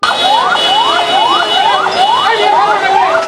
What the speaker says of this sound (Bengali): জরুরি লেন না থাকায় যানজটে আটকে থাকে রোগীবাহী অ্যাম্বুলেন্স